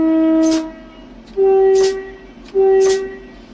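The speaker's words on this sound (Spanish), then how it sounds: "Dentro de unos segundos el tren se moverá hacia delante." Train horn sounding three times in close succession, each a steady harmonic blast of about half a second with a short gap between, on a train preparing to pull away on the line from Salamanca to Canfranc, over a low rumbling background.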